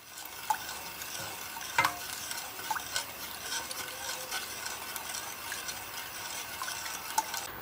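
Orange juice and sugar syrup stirred over low heat in a pan, a soft continuous bubbling sizzle with occasional faint clinks of the spoon, close and with no talk.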